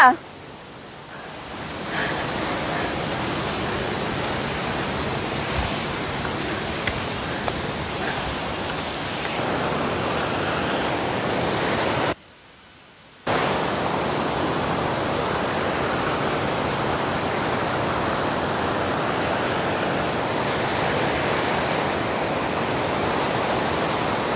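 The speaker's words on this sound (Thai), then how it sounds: "ตรงนี้นะน่าจะเป็นน้ำตกชั้นเจ็ดนะ" The seventh tier of Nam Tok Kao Chan, a nine-tier waterfall in Suan Phueng, Ratchaburi, makes a constant hiss of falling water close by. The rush cuts out for about a second midway, and faint voices may sit under it.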